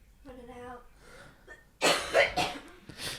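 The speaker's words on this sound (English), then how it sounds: "Coughing like crazy, I'm gonna go get some water." A brief voice sound, then a burst of three loud, harsh coughs in quick succession, close by.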